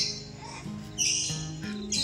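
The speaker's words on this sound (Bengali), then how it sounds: "এটা পুরোটাই পাখির খাঁচা এখানে পায়রা রয়েছে ওই পাশে ময়ূর রয়েছে" Birds in an aviary holding pigeons, peacocks and parrots chirp and squawk over a steady background murmur, with a few brighter high calls breaking through at moderate distance.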